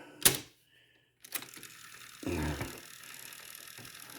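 A Pioneer CT-F650 cassette deck's transport mechanism clicks and whirs, with a sharp mechanical clack, a pause, another click, then a steady motor whirr as the tape winds in rewind.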